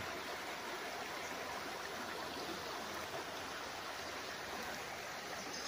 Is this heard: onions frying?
no